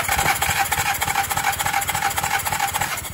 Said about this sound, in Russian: Замер компрессии, первый цилиндр.